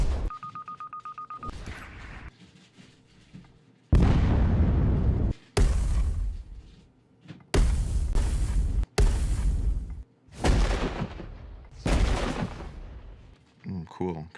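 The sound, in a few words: several small explosions sound effect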